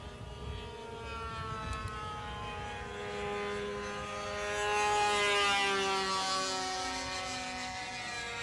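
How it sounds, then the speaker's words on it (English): A twin-engine Hornet radio-controlled model airplane flies fast, its buzzing engine whine droning steadily and then swelling louder as it passes close, with no voices. "Don Parsons does some fast flying with a twin-engine Hornet"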